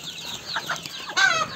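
Chicks about one to one-and-a-half months old in a rearing room cheep and cluck in short close calls, ending with a louder, longer peep.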